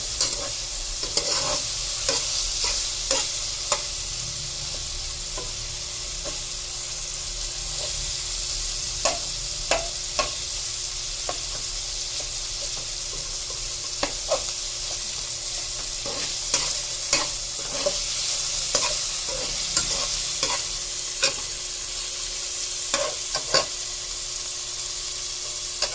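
Tomatoes cooking in a pan for salmon sinigang, stirred now and then, with a steady soft sizzle broken by repeated sharp scraping clicks of a utensil against the pan, close up and without talk.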